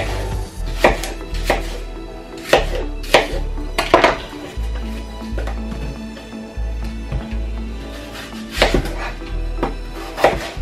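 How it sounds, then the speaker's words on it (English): A green apple is cut with a knife for a salad bowl, making crisp slicing and board knocks in irregular bursts under loud, continuous background music. "So the next thing we need here is our green apple, preferably green apple. Okay, so I'm gonna cut it."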